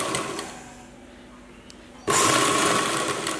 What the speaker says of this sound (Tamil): இதில் இப்போ நம்ம தையல் போட்டுடலாம்.